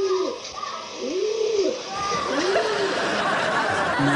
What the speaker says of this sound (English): a nice little wing flap